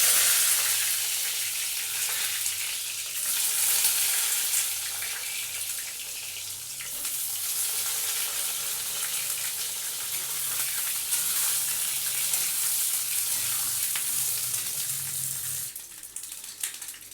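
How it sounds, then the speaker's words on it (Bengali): Washed brinjal pieces fry in hot oil in a kadai wok for a hilsa and brinjal curry: a loud, dense, continuous sizzle that holds steady throughout, close by, with no voices. "কড়াইতে তেল গরম হয়ে গেছে, আমি দিয়ে দিচ্ছি ধুয়ে রাখা বেগুনগুলো।"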